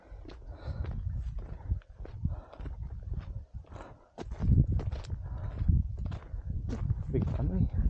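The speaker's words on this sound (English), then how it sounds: "Horses." Horses walking on a hiking trail in Noorbeek, Netherlands, hooves clip-clopping in an irregular, close-up rhythm amid rustling and snorting, with people talking over much of it.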